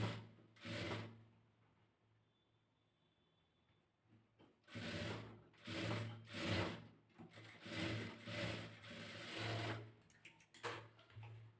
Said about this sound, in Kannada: ಈ ರೀತಿ ಕರೆಕ್ಟಾಗಿ ಲೆವೆಲ್ ಇಟ್ಕೊಂಡು ಸ್ಟಿಚಿಂಗ್ನ ಮಾಡ್ಕೊಳ್ಳೋಣ